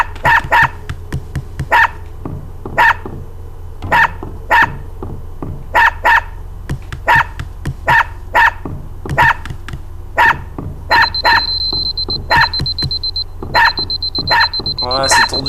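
Repeated dog barks from the video game Unepic ring out in a steady rhythm of sharp yips, clear and prominent over a low hum, with a high electronic tone appearing later.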